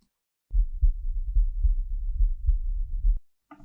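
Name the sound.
heartbeat sound effect in a video edit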